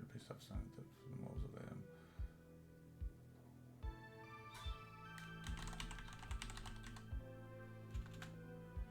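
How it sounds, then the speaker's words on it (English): Steady typing on a computer keyboard in a text editor, with close clicks and a regular tapping rhythm running through the whole stretch under soft background tones, with little else around them. "I'm just typing this in Notepad"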